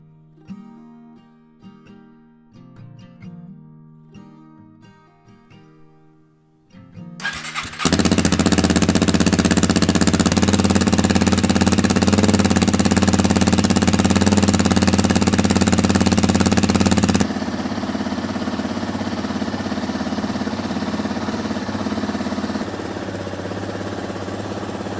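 A Honda CRF 300 Rally motorcycle engine catches after quiet moments and settles into a loud, steady idle that drops slightly in level midway and holds to the end, with no talking.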